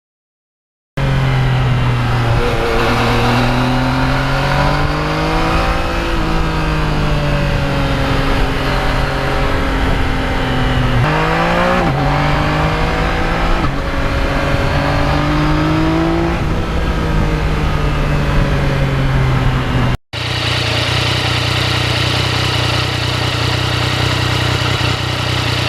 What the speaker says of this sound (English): The exhaust on this bike, when you're riding it, has the most pleasant sound, not irritating